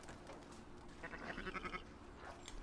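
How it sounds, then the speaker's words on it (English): A sheep bleats a few times in Red Dead Redemption 2, a faint wavering call over quiet ambient game sounds. "Oh, it's a sheep."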